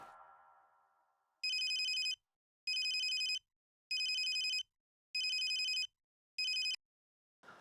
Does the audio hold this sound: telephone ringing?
yes